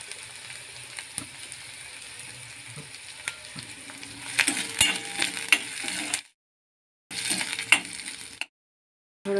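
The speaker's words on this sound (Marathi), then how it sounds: "कढीपत्ता घालत आहे। हिरव्या मिरच्यांचे तुकडे घालून घेतो।" Curry leaves and green chilli pieces hit hot oil in a pan and set off a crackling, spitting sizzle. Metal utensils clink now and then, and the sound cuts out briefly twice before resuming.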